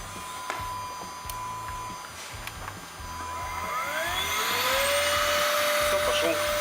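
An electric pump switches on and begins sucking air out of a PVC inflatable boat, its motor whine rising in pitch and growing louder and steadier over a few seconds.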